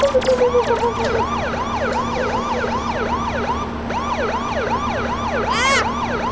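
A police siren in a video game wails in a fast, repeating up-and-down sweep, loud and close, over a steady engine drone, with a short burst of noise near the end.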